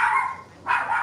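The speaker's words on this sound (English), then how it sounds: "Go get your dog." A dog barks twice nearby, two drawn-out yelping barks separated by a short pause, loud and without other sound.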